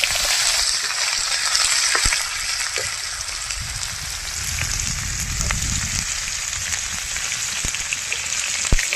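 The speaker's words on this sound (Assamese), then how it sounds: "মানে ভাজি আছে পিঁয়াজ" Onions sizzle in hot oil with whole cumin and bay leaf, a steady close frying hiss with crackling pops that swells briefly as they are stirred, no voices over it.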